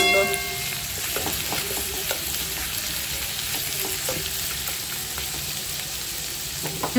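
Garlic fries in a pan with a steady, dense sizzle and crackle throughout, close and fairly loud, with occasional stirring clicks.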